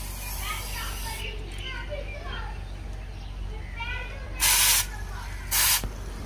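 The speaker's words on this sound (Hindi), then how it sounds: "और उसके बाद आपको इस चैन के सारे साइड स्प्रे करना है।" Two short, loud bursts of aerosol chain lube spray onto a Royal Enfield Meteor 350 motorcycle chain, each lasting about half a second, standing out over steady background noise and an earlier stretch of speech.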